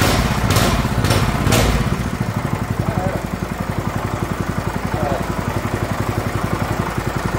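A 210cc motor scooter engine, already warm, cranks on its electric starter and catches, then settles into a steady, close, rhythmic idle that runs to the end, with a few louder bursts right at the start.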